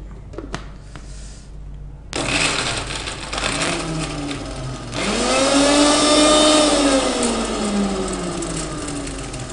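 A mixer grinder whirs loudly and continuously, blending muskmelon and grapes into juice, its motor pitch shifting and rising as the blades spin, with a few clicks just before it starts.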